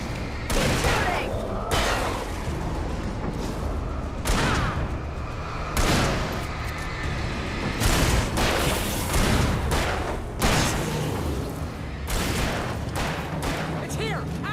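Repeated bursts of gunfire ring out in the Alan Wake video game, loud and dense shots coming in clustered volleys over a constant roar, while voices shout beneath the shooting.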